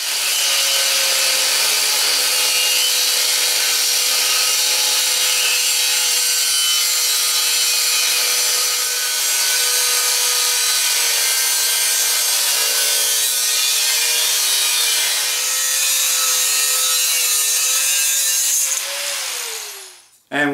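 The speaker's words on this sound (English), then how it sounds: "we have a 13-inch piece of 4-inch conduit cut and ready to play with" A 4-inch conduit pipe being sawn by hand in a workshop, a steady, close rasping stroke noise that continues for about twenty seconds before stopping abruptly.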